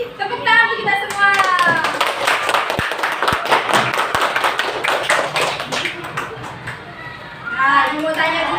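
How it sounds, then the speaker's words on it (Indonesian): Fifth-grade pupils in an elementary school classroom clap their hands together, uneven rhythmic claps rising over spoken voices and children's chatter, close and moderately loud. "Tepuk tangan untuk kita semua."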